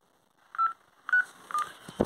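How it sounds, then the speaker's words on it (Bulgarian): A telephone number is dialed: four short electronic DTMF keypad beeps sound in quick, uneven succession, close and clear against near silence. "звъни на някакъв номер човека"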